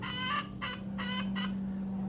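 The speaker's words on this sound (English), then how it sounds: "with my noisy chicken" A noisy backyard hen clucks in four bursts of repeated harmonic calls, close and fairly loud over a steady low hum and background noise, with no talking.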